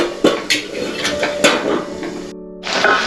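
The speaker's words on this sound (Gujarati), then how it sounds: "ફરી ઢાંકી દઈએ પાછા" A lid set back onto a cooking pot of simmering tomatoes for a peas and potato curry, giving a few close metallic clanks and rattles of pot and lid over light kitchen background.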